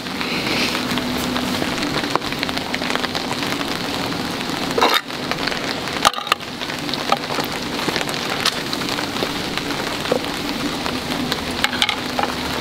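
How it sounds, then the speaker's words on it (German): Steady rain falling outdoors, pattering densely on surfaces with occasional louder drops and thuds, a continuous hiss close by with no talking. "Es regnet."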